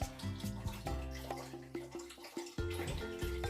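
Water drains through a siphon hose in uneven, gurgling surges that pulse and briefly drop out before resuming, close and steady with no one talking.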